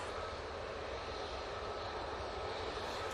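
Jet2 Airbus A321neo taking off at Manchester Airport, a steady, loud, broad engine roar holding constant throughout with no other sounds.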